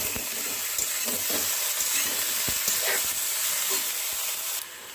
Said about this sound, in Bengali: চালতাগুলোকেও দিয়ে দিচ্ছি, দিয়ে মিশিয়ে দিচ্ছি।